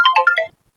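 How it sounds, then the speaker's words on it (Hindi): A mobile phone ringtone plays a quick, bright melodic phrase of about four rising and falling notes, close and clear, then cuts off into silence. "ले मैं चलूँ, फोन आ गया।"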